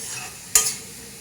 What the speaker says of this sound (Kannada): ನಾವು ಸ್ವಲ್ಪ ನಮ್ಮದು ಈರುಳ್ಳಿ ಪಾಪ ಫ್ರೈ ಆಗ್ತದೆ ಅದು.